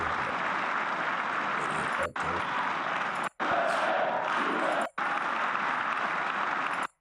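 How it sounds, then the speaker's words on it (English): The audience at a State of the Union address bursts into loud, dense applause, with the sustained crowd clapping broken by a few brief cuts. "every time he finishes a sentence, they have to clap"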